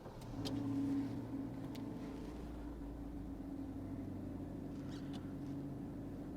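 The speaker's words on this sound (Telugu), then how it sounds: "ఒకసారి కార్ అయితే స్టార్ట్ చేసుకుందాం అండి ఇంజిన్ నాయిస్ అనేది క్యాబిన్లోకి వస్తుందో లేదో ఒకసారి అయితే చెక్ చేద్దాం" Maruti Suzuki WagonR BS6 petrol engine starting while the car sits in neutral, heard from inside the cabin: a short rise as it catches, then a steady low hum that settles at slightly raised idle, with no talk.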